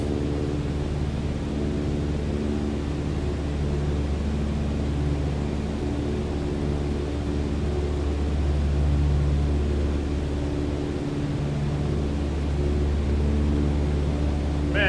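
A steady, droning engine hum from an airplane in flight in Microsoft Flight Simulator 2020, climbing on approach; a constant low tonal roar holds unchanged throughout with no voices.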